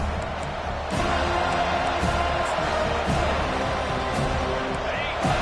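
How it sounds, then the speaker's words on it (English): A virtual stadium crowd in the College Football 25 video game roars continuously at a Florida State home game, a loud, dense wall of cheering with occasional sharper whoops rising out of it. "This crowd trying to show them what it's going to be like all day in this house."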